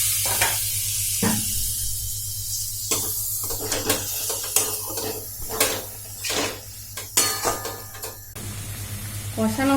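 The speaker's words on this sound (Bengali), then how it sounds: "একটু জল অ্যাড করছি কষাতে কষাতে।" Snail and onion curry sautéing in a pan over low to medium flame, with a soft sizzle broken by repeated clanks and scrapes of a spoon against the pan and a short burst of frying near the end.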